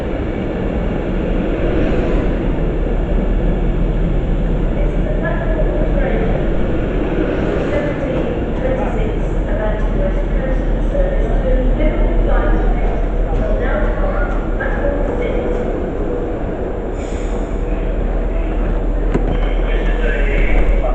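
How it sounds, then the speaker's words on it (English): A Class 390 electric train bound for London Euston at Crewe station on the West Coast Main Line gives a steady, fairly loud broadband hum and rumble that holds evenly throughout. "It is a class 390 bound for London Euston"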